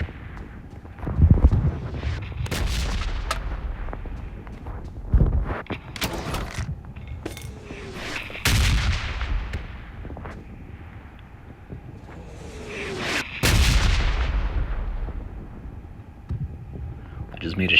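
Red zone bombing in PUBG Mobile on the Erangel map: heavy booming explosions hit repeatedly at irregular intervals, loud and close, with rumbling tails between blasts.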